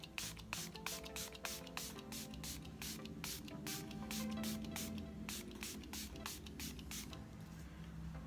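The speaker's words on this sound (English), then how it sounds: "I'm just going to liberally spray that over my entire face." Rapid bursts of a pump spray bottle misting setting spray onto a face, many quick hissing spritzes in an uneven rhythm, close and fairly loud, with no talking.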